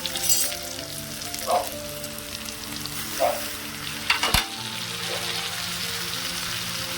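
A broad bean curry simmers and sizzles in a pan as tomato goes in, with soft stirring and a few clinks over a steady low frying hiss and no voices.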